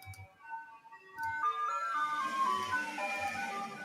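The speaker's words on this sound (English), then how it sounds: "Is that the ice cream truck?" An ice cream truck passing outside plays its tinkling chime melody, which starts faint and grows fuller as the vehicle draws nearer, with a low engine rumble beneath and no talk.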